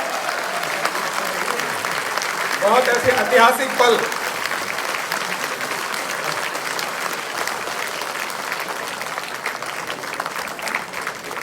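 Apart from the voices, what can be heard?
applause welcoming a member of parliament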